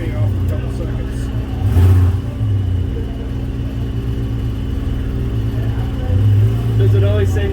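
Shelby GT350R race car engine at idle with low steady rumble, swelling into two short revs a few seconds apart, with people talking nearby.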